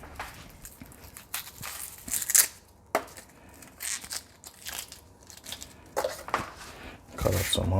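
Onions being cut on a board while cooking seasoned chicken, a series of separate crunching knife chops in irregular bursts, fairly close and crisp, with quiet gaps between them.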